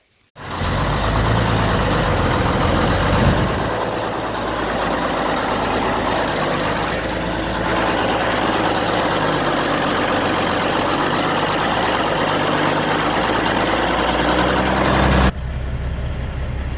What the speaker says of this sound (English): Now the tractor can't even pull the truck.